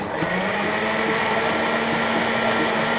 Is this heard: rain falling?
no